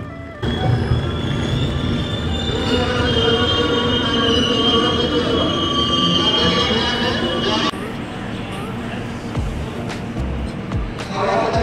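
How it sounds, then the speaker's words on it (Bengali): A Kolkata–Mumbai Duronto Express train rolls into Tatanagar Junction with a loud, continuous rumble and high squealing wheels, metal screeching steadily as it slows, with faint voices in the background. "হাওড়া থেকে ছাড়ার পর তার প্রথম গন্তব্যস্থল টাটানগর জংশনে ঢুকলো।"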